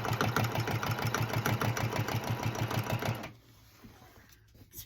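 A quilting sewing machine runs a fast steady stitch in the ditch along a quilt border, rhythmic and close for about three seconds before stopping, leaving quiet room sound.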